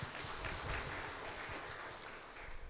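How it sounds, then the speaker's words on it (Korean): A church congregation at a Sunday service claps to welcome a speaker, a dense, sustained round of applause filling the room throughout, with no voices over it. "우리 박수로 환영합시다"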